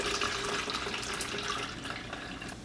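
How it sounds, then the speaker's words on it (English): Water runs steadily from a tap into a jug, a continuous close rushing and splashing fill with no voices. "I fill this about half full of water."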